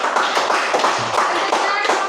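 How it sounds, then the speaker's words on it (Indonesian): A classroom group claps for a presenting team, a fairly loud, close burst of many hands in quick irregular claps lasting about two seconds, with a faint voice mixed in. "Tepuk tangan untuk kelompok 2."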